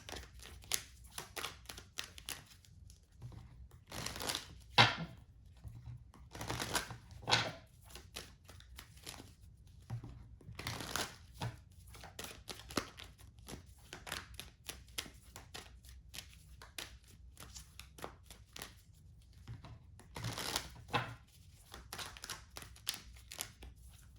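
Tarot cards being shuffled and laid out on a surface, heard as scattered close, soft card slaps and riffles in irregular bursts, with no talking.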